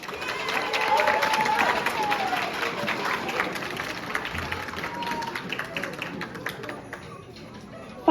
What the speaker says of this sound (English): So can we get a round of applause for all those teachers?